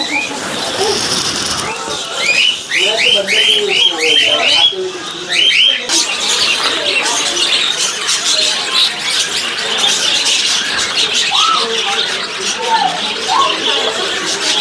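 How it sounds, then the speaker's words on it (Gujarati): Shrill, repeated cockatiel calls and chirps ring out in quick bursts, mixed with other bird sounds and a busy outdoor background at Indroda Nature Park, Gandhinagar. "કોકેટીલ પોપટ તમે જોઈ શકો છો"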